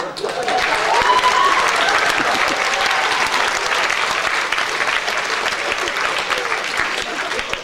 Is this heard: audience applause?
yes